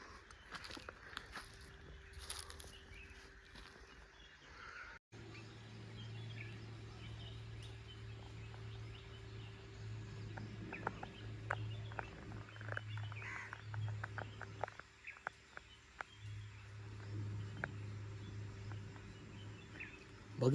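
Faint, scattered bird chirps on a quiet farm in Konkan in rainy weather, over a steady low motor hum.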